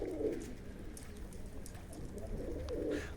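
Racing pigeons coo in low, soft bursts, with one near the start and another near the end, over a steady murmur of background noise.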